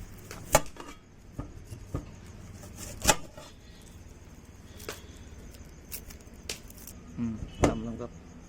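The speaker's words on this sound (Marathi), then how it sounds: "आता आमचा चॉपिंग बोर्ड टाकला आहे आता मधीशेट पाटापाट कांदा कापून घेईल" Knife chopping onions on a chopping board outdoors, a sharp thud every second or so with a few closer, louder cuts near the end, over faint background noise.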